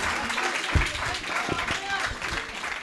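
An audience applauds at a Gujarati poetry recital, a soft, steady patter of many hands heard from a distance, with faint voices mixed in.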